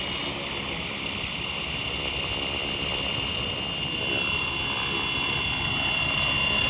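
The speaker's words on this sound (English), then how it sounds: "from there, you can go ahead and start the helicopter" A Flywing FW450L RC helicopter spins up from a start, a steady whine with a thin high tone and a faint rising drone, close by and constant.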